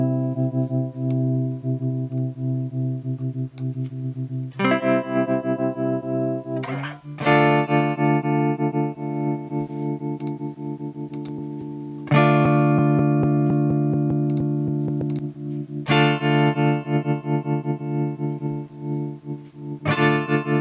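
Eventide H9000 ring modulation applied to a tremolo, producing a sustained, buzzy metallic tone that shifts pitch in several distinct steps and pulses steadily, loud with no talking.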